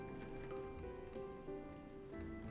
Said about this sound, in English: The wind is blowing so hard, it's blowing the rain through the screen on my window and onto the glass.